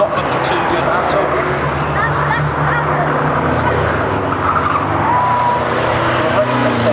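Vans race in a demolition derby banger meeting at Arlington, their engines roaring steadily with tyre skids and squeals running underneath, while a commentator talks throughout.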